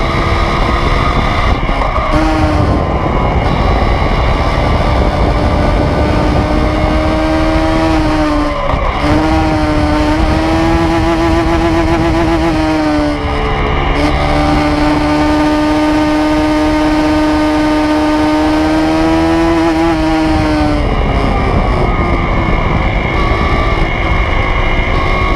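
A Bajaj Pulsar NS400Z is pushed hard around a race track with its tyre pressures lowered, its engine a loud, continuous snarl that climbs through the revs and drops briefly at each gear change.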